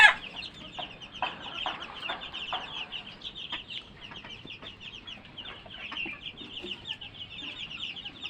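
Native and broiler chickens in a small farm coop keep up a busy, overlapping clucking and chattering, close and fairly loud, with a few sharper squawks throughout.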